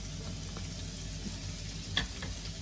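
Coconut paste with a little turmeric frying in a hot pan, a steady low sizzle throughout with one brief sharper crackle near the end.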